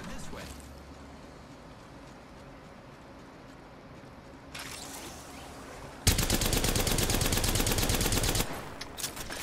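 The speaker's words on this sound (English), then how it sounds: "I missed all my shots" Player gunfire in a video game: a long, dense burst of rapid automatic shots near the end, loud and close, following quieter game ambience with a few muffled impacts.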